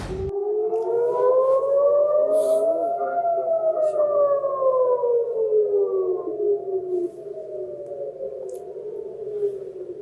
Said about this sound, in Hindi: आप लगातार ये सायरन की आवाजें सुन रहे होंगे